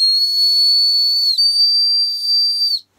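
A single loud, shrill blast from a Tesla Cyberwhistle held steady for nearly three seconds, dipping briefly once in the middle before cutting off abruptly.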